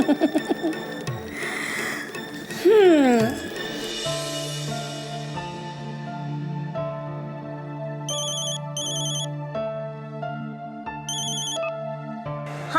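A telephone rings for an incoming call in a Marathi television serial scene. A melodic electronic ringtone repeats in short bursts over a steady background tone and other layered sounds, fairly loud and with no talk over it.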